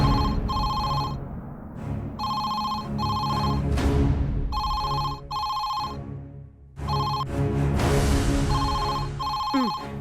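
A telephone ringtone trills loudly in repeated bursts of electronic tones separated by short pauses, continuing throughout with no voices.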